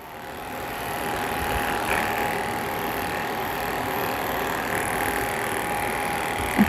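Electric clipper shaving the head of a toy poodle during grooming, a steady continuous mechanical buzz running throughout at fairly even loudness, close and alone with no talking.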